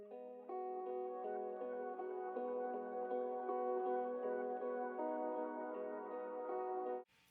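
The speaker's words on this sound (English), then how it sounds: "The spacious preset is doing a lot of crazy things like adding delays, reverse them, and adding reverb" Electric guitar run through a spacious Guitar Rig preset with delays, reversed echoes and reverb, its sustained notes blurring into a smooth pad-like wash that holds steady for several seconds before cutting off abruptly.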